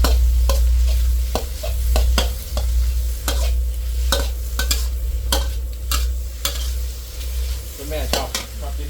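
Marinated pork stir-fried with soy sauce in a hot pan, loud continuous sizzling broken by frequent sharp scrapes and clanks of a spatula stirring, with no talk.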